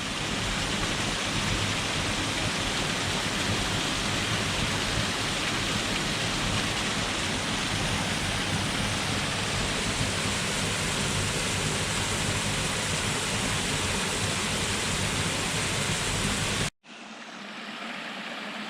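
Waterfalls along the Van Hook Falls Trail roar in a steady, dense broadband rush of falling water, close and loud without a break, cutting off abruptly near the end into a quieter, thinner flow.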